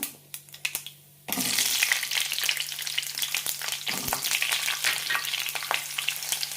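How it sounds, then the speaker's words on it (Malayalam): Around fifteen small onions drop into hot coconut oil with popping mustard seeds, setting off a sudden loud sizzle after a few quiet clicks; the frying hiss stays strong and crackly, broken by scraping stirs, with no voices. "ഇനി ഇതിലേക്ക് 15ഓളം ചെറിയ ഉള്ളി ഇടാം."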